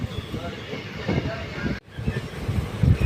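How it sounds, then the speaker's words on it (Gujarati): A passenger train rolls along steadily just after pulling out of Khakhariya station, a continuous rumbling run heard from inside with a brief dropout midway and a voice speaking over the noise. "આપણી ટ્રેન ખાખરિયા સ્ટેશનથી ઉપડી ચૂકી છે"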